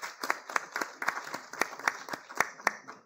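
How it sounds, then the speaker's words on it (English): An audience at a tunnels and bridges conference claps to welcome a late-arriving speaker, a sparse, fairly faint round of distinct individual claps in an irregular rhythm, with no voices over it. "let's welcome him with a round of applause"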